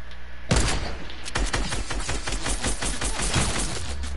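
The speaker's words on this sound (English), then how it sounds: "I'm gonna miss every single one of my shots" Video game gunfire erupts suddenly into a loud, sustained rapid burst of shots and impacts that continues steadily to the end, with no clear talk.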